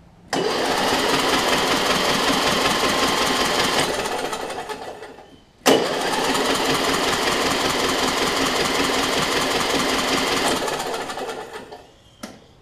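A Murray widebody riding mower, with old gas in its tank, cranks over in two long, loud, rapid chugging bursts, each about four to five seconds, separated by a short pause.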